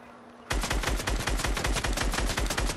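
A rapid automatic burst of gunfire in Fortnite Battle Royale bursts in suddenly and runs as a loud, close, evenly spaced string of shots to the end.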